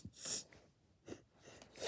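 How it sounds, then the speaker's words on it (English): Several short, sharp nasal bursts from a person with a cold, sneeze-like snorts and breathy gasps spaced apart over a couple of seconds. "And I've also been sneezing"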